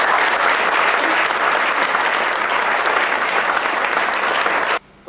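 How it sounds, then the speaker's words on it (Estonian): Loud, dense applause from a crowd at a Lähte school's basic-school graduation ceremony, sustained clapping for nearly five seconds before cutting off abruptly. "nüüd oleks vist õige koht aplausile"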